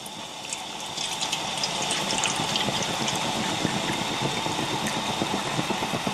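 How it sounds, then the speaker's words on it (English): A pot is filled with water for a camping brew beside a homemade Heineken-can alcohol stove, a steady close rushing pour running continuously with no talking. "I'm just going to fill this up with water."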